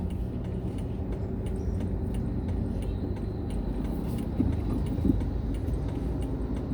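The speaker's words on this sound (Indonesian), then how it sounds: "Cukup ramai lalu lintas guys." Steady traffic on a busy new road leading to an airport, a continuous low rumble of passing cars and vehicles with a couple of louder passes, no speech.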